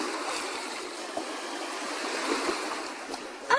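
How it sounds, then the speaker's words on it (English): Ocean waves wash steadily onto a beach as a continuous broadband surf hiss, with a slightly louder surge and brief rustle near the end. "And these are waves."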